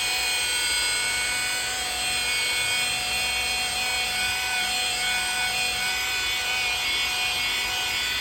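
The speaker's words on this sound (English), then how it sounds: "I keep polishing until the shine comes back up" Steady, continuous machine polisher drone works over a car bumper, loud and unbroken throughout with no talking.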